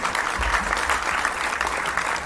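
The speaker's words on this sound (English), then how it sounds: "So big round of applause for the faculty." Auditorium audience at a university induction program applauding the faculty, a steady dense wash of many hands clapping that holds evenly throughout with no voices on top.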